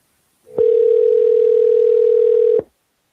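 A telephone call rings out as a steady, loud electronic dial tone that holds for about two seconds and then cuts off, heard alone with no talking.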